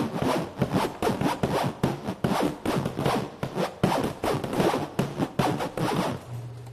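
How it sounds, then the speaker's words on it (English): A zipper is zipped back and forth repeatedly in quick, rhythmic rasping strokes, close and fairly loud, with no voices. "Stop with the zipper noises?"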